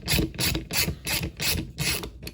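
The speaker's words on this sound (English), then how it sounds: "you can go back to your socket and spin the top nut completely off" Socket wrench ratcheting as it spins the top nut off the clutch of a SAB Goblin RAW 700 nitro RC helicopter, steady bursts of loud close clicking in an even rhythm with no talk.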